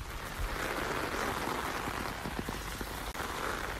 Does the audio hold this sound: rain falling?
yes